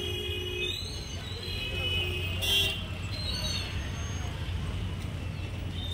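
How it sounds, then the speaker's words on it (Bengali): Car horns honk repeatedly from vehicles queued at a level crossing gate while waiting for a train, sustained tones over a rumble of idling traffic, with a brief louder blast partway through. "প্রচুর গাড়ি জমে গেছে এবং খালি হর্ন মেরে যাচ্ছে।"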